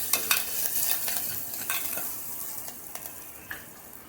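A spoon stirs a potato vada mixture with chopped green chilies and curry leaves in a pan, giving soft scraping and light clinks over a steady faint sizzle, close up with no talking.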